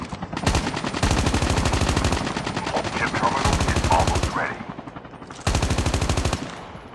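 Call of Duty machine-gun fire rattles in long, loud automatic bursts with brief pauses between them. Faint distant battle sounds fill the gaps.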